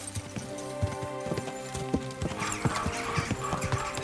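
Steady clip-clop of a ridden horse galloping in Kingdom Come: Deliverance 2, rapid rhythmic hoofbeats with a brief whinny, set over a continuous musical score.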